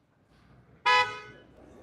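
A single loud car horn blasts on a city street, a sharp honk of about a quarter second that fades into street traffic rumble.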